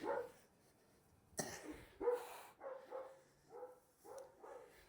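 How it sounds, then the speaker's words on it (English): A neighbor's dog barks repeatedly outdoors from some distance away, a series of separate woofs spaced about half a second apart, quiet against a silent background. "It's my neighbor's dog and he likes to bark for no reason."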